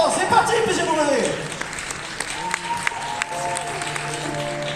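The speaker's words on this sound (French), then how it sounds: "je compte sur vous pour applaudir bien fort" An audience at a cosplay final claps, the applause rising early then thinning, while an announcer speaks over it.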